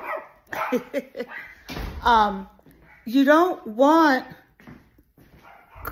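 A dog barks and yips in short bursts, close and loud, alternating with a person talking over and between the barks.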